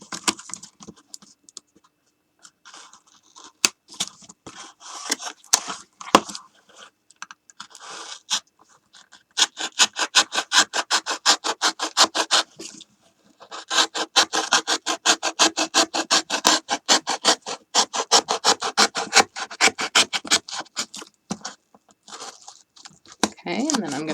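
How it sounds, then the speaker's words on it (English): A blade saws back and forth through hot-glued material on an upcycled ribbon storage craft, giving rapid, close scratchy strokes that come in bursts, with quieter gaps early and long continuous runs later. "I'm just going to use the sawing motion and saw through this."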